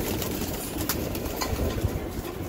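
Roller and racer pigeons cooing close by, a steady run of low throaty coos with slight rustling and no speech.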